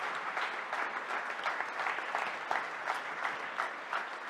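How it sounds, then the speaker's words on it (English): Sustained audience applause at a European Left political forum in 2024, steady dense clapping held at a moderate level throughout with no voices over it. "I'd like to keep giving you a round of applause."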